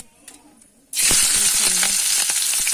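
A mixture hits hot oil about a second in, bursting into a loud, steady sizzle with scattered crackles and stirring scrapes that hold to the end after a quiet start.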